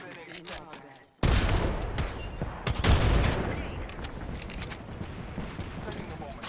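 Video game gunfire breaks out suddenly into loud, dense volleys of rapid shots and bursts that echo and tail off, with a synthetic voice speaking faintly beneath the shooting.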